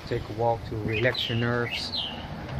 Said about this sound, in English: Hear the birds singing.